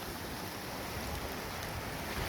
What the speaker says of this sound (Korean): 서 위에서 내려오는 물소리인데 잠깐 볼까요?